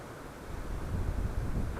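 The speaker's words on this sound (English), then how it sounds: "Got some good wind going on." Strong wind from Hurricane Ian gusting around a house in Homosassa, a steady low roar that swells and buffets, heard outdoors without voices.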